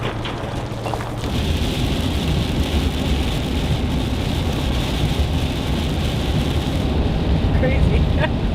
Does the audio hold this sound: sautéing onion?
no